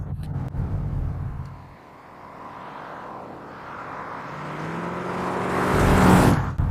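Engine of a 1973 Jensen SP sports car on the move, heard first as a loud rumble that eases off and then builds into a rising, revving roar before dropping away, with no talking.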